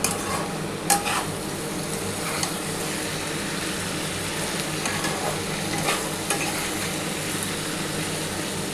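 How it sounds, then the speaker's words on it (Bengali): Boiled potatoes with small mourala fish and green beans fry over raised gas in a pan, giving a loud, steady close-up sizzle with occasional soft stirring scrapes and no voices. "একটুখানি নাড়াচাড়া করে আমি নামিয়ে নেব।"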